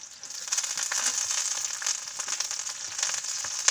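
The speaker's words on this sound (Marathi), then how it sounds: "आता कढीपत्ता टाकत आहोत." Curry leaves hit hot oil for mung bean usal and crackle into a close, loud, continuous sizzle with sharp popping spits throughout.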